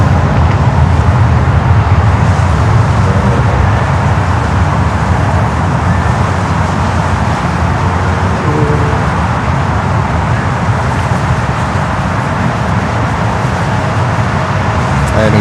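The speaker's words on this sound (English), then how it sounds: "Sorry for the cars and for the noise here on Grand Central Parkway." Steady loud roar of car traffic on Grand Central Parkway near LaGuardia Airport, a continuous dense low rumble of passing vehicles close by with no breaks, as if heard from the roadside.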